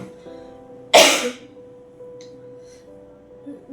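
A single sharp, forceful cough bursts out from a person with a heavy cough that has lasted two weeks. It is close and loud, then fades back to quiet steady background tones, with a faint stir near the end.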